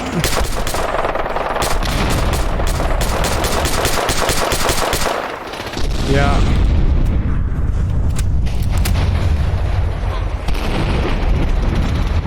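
Dense, rapid automatic gunfire in the virtual reality game Fallout 4 VR, loud and continuous with repeated bursts, a brief dip around the middle, then heavy booming shots and rumble; a voice speaks briefly over the shooting.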